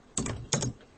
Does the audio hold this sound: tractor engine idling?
no